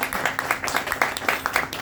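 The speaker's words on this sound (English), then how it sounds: "One round of applause for the late great Kobe Bryant." Audience members at a stand-up comedy gig clap in a quick, regular rhythm, loud and near, for a couple of seconds.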